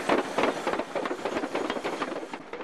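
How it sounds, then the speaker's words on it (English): A steam-powered track layer, a replica of the first Holt Caterpillar sold, runs at an antique tractor display in Knight's Landing. It gives off a loud, steady churning hiss with rapid rhythmic chuffing and mechanical clatter and no pauses. "This is a replica of the first Holt Caterpillar sold."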